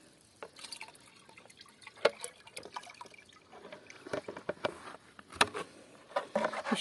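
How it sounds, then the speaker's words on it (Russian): Liquid fertilizer solution of potassium permanganate and citric acid in ten litres of water splashes and drips into a watering can, a close, irregular run of bright splashes and patters; no one talks. "выливаю в лейку"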